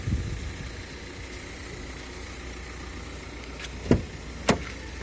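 A Renault Kangoo engine idles low and steady, with a couple of sharp clicks near the end.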